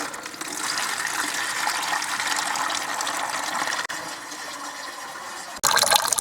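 Water runs from the tap of a second storage tank into a bucket in an off-grid water setup, a steady, close, continuous gushing pour with a brief break near the end before it surges louder again.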